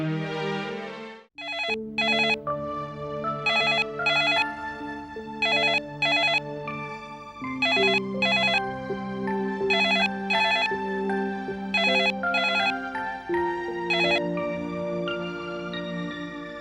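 A telephone ringtone plays as a repeating melodic pattern of bright tonal bursts, loud and close, running steadily for the whole stretch with no voices over it, in the scene of a Hindi television drama.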